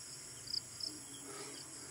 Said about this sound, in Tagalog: Mga tunog ng mga kulisap, tapos medyo maulap pa.